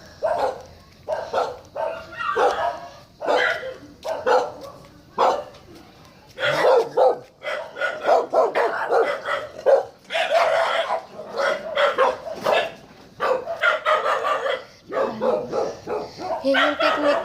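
Several dogs bark repeatedly at a person walking past, in loud, close bursts with short pauses, some yips and whines mixed in, continuing throughout.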